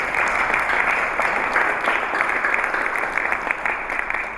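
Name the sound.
audience applause at event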